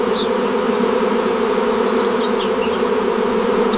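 Honey bees buzz continuously around hives on an isolated farm, a steady droning hum with individual insects darting close and whining past now and then.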